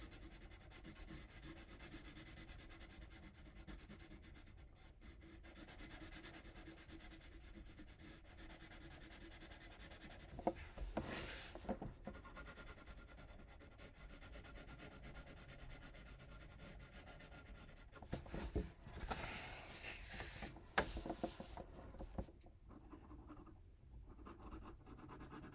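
Pencil shading on paper for a self portrait, a steady close rubbing and scratching of graphite that runs throughout, with a few louder bursts where the paper shifts or is handled.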